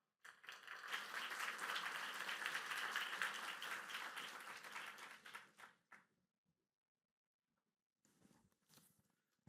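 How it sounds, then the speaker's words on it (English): Audience applause at a symposium: a broad wash of clapping that swells quickly, holds steady for several seconds, then stops abruptly, followed by a few faint scattered claps and shuffles near the end. "let us all give a round of applause to welcome Dr. Ma"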